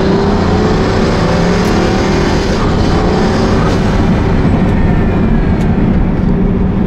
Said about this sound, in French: On a un petit bouton pour l'échappement sur lequel j'ai appuyé pour avoir plus de son